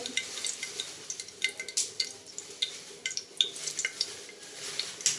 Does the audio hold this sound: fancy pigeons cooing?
no